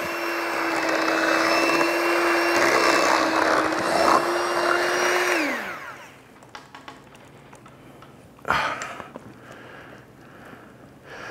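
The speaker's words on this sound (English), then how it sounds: "even after I whisk it a little bit, I like to blend it" A blender whirs steadily as it purees sweet potato juice, running loud with a constant motor tone for about five seconds before winding down, followed by quieter clinks and handling sounds.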